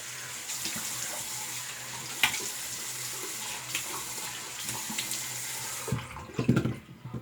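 A tap runs cold water in a steady, hissing stream into a basin while shaving with an all-metal three-piece safety razor, fairly quiet and continuous, with a few clinks and splashes near the end.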